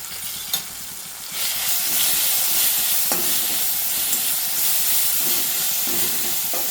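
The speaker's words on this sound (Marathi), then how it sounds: "हे सर्व व्यवस्थित परतून देऊयात." Steady hissing sizzle of garlic chili paste frying in a hot kadhai, with occasional scraping clicks from stirring; close and continuous, no voices.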